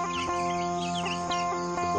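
Free-range village chickens cluck at a morning feeding, with repeated short calls overlapping one another at close range over a steady background.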